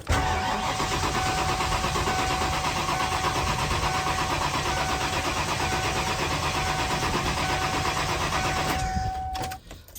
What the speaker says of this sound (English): we'll crank it over for about like 5 seconds or so